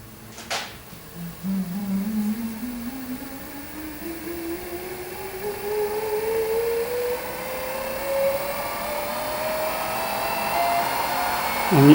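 An electric treadmill motor fitted to a 1944 metal lathe winds up from a low hum to a high, steady whine, rising smoothly in pitch over about twelve seconds and running alone without voices.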